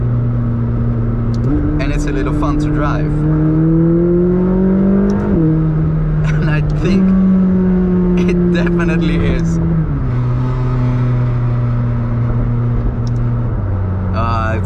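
McLaren 600LT supercar accelerating hard from inside the cabin, engine rising through gears in loud stepped pulls with brief shift dips, while someone talks over the drone.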